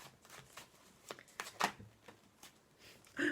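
Tarot cards cut and riffled by hand, giving a string of soft papery flicks and snaps with a few sharper bursts, close and fairly quiet, with no talking.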